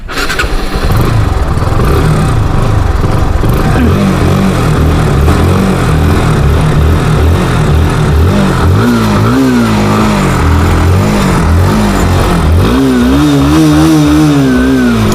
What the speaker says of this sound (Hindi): पहले NS 160 का जो है इसका एग्जॉस्ट साउंड सुन लेते हैं कि इसकी कितनी बेटर है।